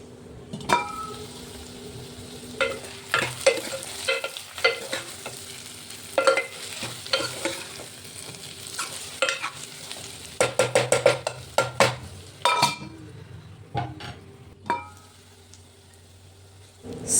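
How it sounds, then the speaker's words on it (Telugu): Ivy gourd curry stirred in a sizzling pan, a utensil scraping and knocking against the pan in irregular bursts over a soft, steady frying hiss. "చూడండి, దొండకాయ ఉడికిందా లేదా అనేది మళ్ళీ ఒకసారి మిక్స్ చేసుకోవాలి అడుగంటకుండా."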